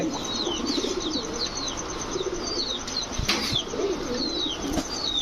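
Pigeons, racer and Danish breeds kept for sale, flap their wings in several bursts amid a steady chorus of coos and chirps from the surrounding flock, close and continuous throughout.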